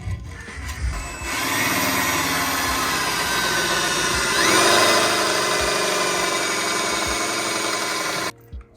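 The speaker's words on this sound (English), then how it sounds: "Make sure you have a suitable drill." A power drill bores a hole in the oil pan of a BMW E46 during a turbo kit install, a loud sustained high-pitched whine that briefly rises in pitch midway before cutting off, preceded by a few clunks.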